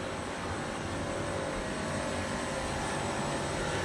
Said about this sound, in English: This is the air conditioning system here.